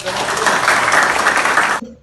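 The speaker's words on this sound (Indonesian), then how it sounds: "berikan tepuk tangan buat" Applause from a classroom audience at a teacher training session, dense even clapping lasting under two seconds before stopping abruptly, with some voices mixed in.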